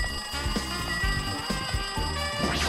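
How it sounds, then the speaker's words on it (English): An electronic phone ring repeats in quick, regular bursts, a busy bright trill that keeps going without pause, in the video game Danganronpa 2: Goodbye Despair. "Looks like that phone is ringing."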